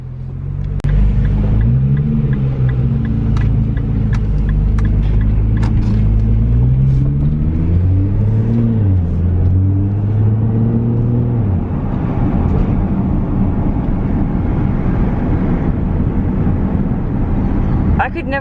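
A Nissan R35 GT-R in GTR mode revs up through the gears, its loud close engine note climbing and dropping in pitch before settling into a steady rumble of road noise.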